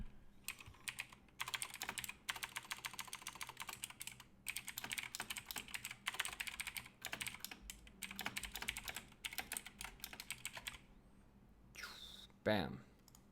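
Rapid, dense keyboard typing and key clicking runs in near continuous bursts with short pauses, close and crisp, while playing the strategy game Rise of Kingdoms in its Ark of Osiris event; a brief tonal swoop near the end.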